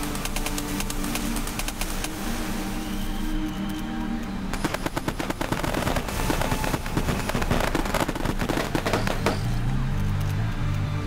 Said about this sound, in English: Oh, it's a gun!